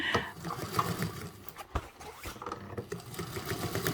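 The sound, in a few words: sewing machine top stitching a tote bag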